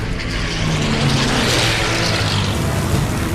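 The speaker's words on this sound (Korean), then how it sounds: "머스탱이 시속 560km를 넘어서자 멀린 엔진이 비명을 질러댔다" Merlin engine of a P-51 Mustang fighter screaming in a high-speed dive past 560 km/h, a loud continuous roaring drone with rising pitch, no talk.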